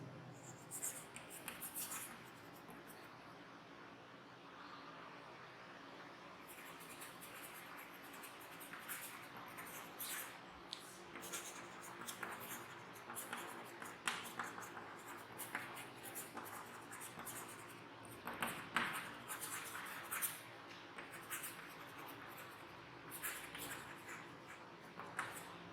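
A teacher writes out notes during a Class 8 science lesson on force and pressure, with soft, close pen or chalk strokes scratching in irregular bursts against a faint background hum.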